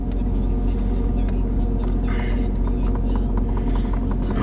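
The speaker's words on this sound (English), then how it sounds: "so let's cut the air conditioner on" Inside a high-mileage Mercedes-Benz S550, the air conditioning fans whir steadily under a constant low engine hum, with a few faint clicks and a brief rustle.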